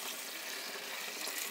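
Water is poured from a glass into goulash soup in a Dutch oven on a gas grill, a faint, steady splashing stream that lasts briefly with no talk.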